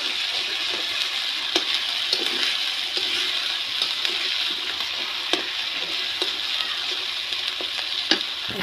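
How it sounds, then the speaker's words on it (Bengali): A paste of onion, ginger and garlic fries in a pan, giving a loud, dense, continuous sizzle heard up close, broken now and then by faint ticks of stirring, with no voices. "আদা বাটা, রসুন বাটাটা ভেজে নিচ্ছি।"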